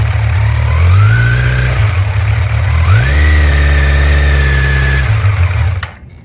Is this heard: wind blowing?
no